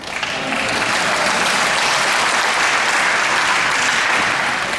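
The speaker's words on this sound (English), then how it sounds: "You can clap, that's fine." Loud, sustained audience clapping at a voter town hall, a dense continuous wash of hands that stays steady for the whole stretch, close and full.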